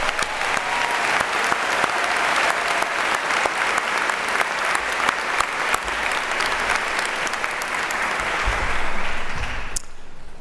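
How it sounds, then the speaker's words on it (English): Audience at Severance Hall clapping for a brass ensemble: sustained, full-room applause that stays strong for about ten seconds, then cuts off abruptly. "our brass ensemble deserves a round of applause"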